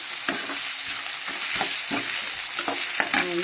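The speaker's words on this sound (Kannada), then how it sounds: "ನಾನು ಉಳ್ಳಾಗಡ್ಡಿ 4ರಿಂದ 5 ದೊಡ್ಡ ಸೈಜ್ ಉಳ್ಳಾಗಡ್ಡಿ ಹೆಚ್ಚಿಟ್ಕೊಂಡಿದ್ದು ಅದು ಹಾಕ್ತೀನಿ ನೋಡಿ. ಚೆನ್ನಾಗಿ ಎಣ್ಣೆ ಒಳಗೆ ಮಿಕ್ಸ್ ಮಾಡ್ಕೊಬೇಕು ರೀ." Four to five large chopped onions are stirred into hot oil, giving a steady close sizzle broken by repeated rhythmic scrapes of a spatula against the pan.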